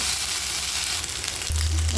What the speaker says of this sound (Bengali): মশলাটা ভাজা ভাজা হয়ে যাওয়ার পর